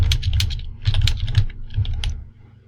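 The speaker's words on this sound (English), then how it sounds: "Type in any message" Fingers typing a short message on a computer keyboard in quick, uneven clusters of close clicking keystrokes with small pauses, over a faint low hum, no talking.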